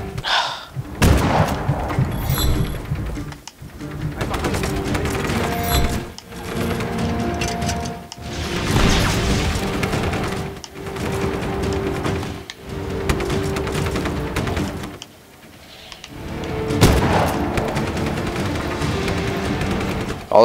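Video game combat at an outpost in Just Cause 3, with dense, loud bursts of rapid gunfire and booming explosions rolling almost continuously, broken by a few short lulls.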